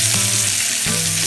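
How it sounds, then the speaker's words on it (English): Pork chops sear in a skillet with olive oil, a loud, close hiss of frying fat with a brief shift partway through as the meat settles. "Flip chops and sear."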